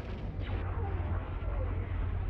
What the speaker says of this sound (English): the explosions have scared the fish away